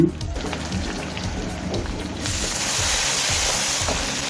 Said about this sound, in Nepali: अब हामी यसमा गोलभेडा राख्छौँ